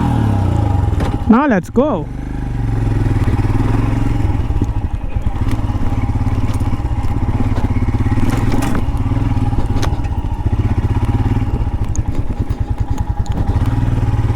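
A 2021 Royal Enfield Himalayan motorcycle idles with a steady, loud exhaust thump, close by, with a brief rising rev early on and someone speaking a few words over it.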